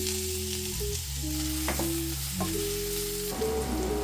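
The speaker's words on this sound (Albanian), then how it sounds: "Marrim një tigan, edhe I hedhim 4-5 lugë vaj ullirit. Hedhim qepën." Chopped onion sizzles steadily in four or five spoonfuls of hot olive oil in a frying pan, a dense continuous crackle with a few soft stirring scrapes and no voices.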